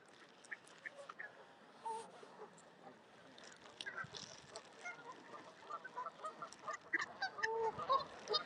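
Canada geese in a park honking repeatedly at a moderate distance, scattered calls that grow busier and more overlapping toward the end, over faint outdoor background.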